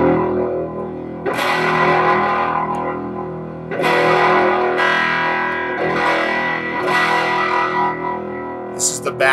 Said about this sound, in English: Getting more distortion.